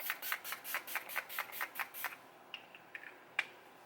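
Rimmel London Stay Matte setting spray is pumped over a face in about nine quick, even hissing bursts, close and crisp, followed by a few scattered single spritzes and clicks.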